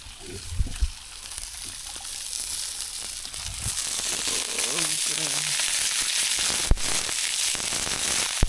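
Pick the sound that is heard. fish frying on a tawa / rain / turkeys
fish frying on a tawa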